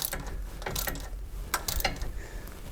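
Ratchet clicks in short bursts while tightening a bump stop bolt on a 2004 Jeep TJ Wrangler, a few close metallic clatters with pauses in between and no talk.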